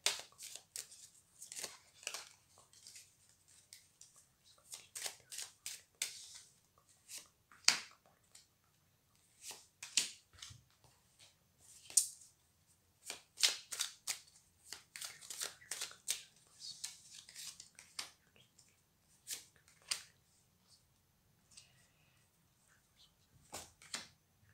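Tarot cards being shuffled and laid out for a reading, a long run of quiet, close riffling and snapping card sounds in irregular bursts with brief pauses.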